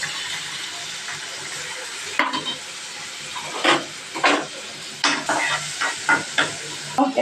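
Chopped onions drop into hot oil with popped mustard seeds and cumin in a pan, giving a steady sizzle with repeated stirring scrapes and crackles close by.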